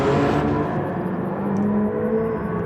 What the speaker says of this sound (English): the engine actually makes quite a low grumble, and it's the exhaust that converts that sound